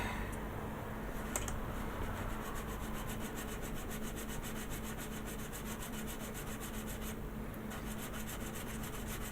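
Close, continuous sanding strokes with a sanding stick over putty on a plastic model kit, a fast rhythmic rasping scrape that keeps going without pause, moderately quiet with no voices.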